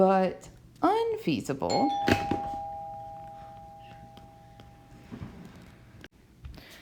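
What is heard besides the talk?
doorbell ringing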